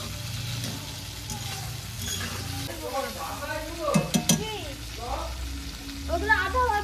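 Food frying in a pan while khichuri is cooked on a rainy day, a soft sizzle with stirring and occasional clinks, under a quiet voice.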